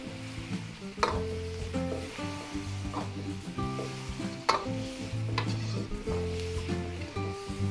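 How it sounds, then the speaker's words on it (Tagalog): Chicken ovaries crackle and pop in a pan of soy sauce while being stirred, with steady sizzling, sharp utensil scrapes and clinks, and background music layered throughout. "Naglalagitikan agad. Haluin po muna natin."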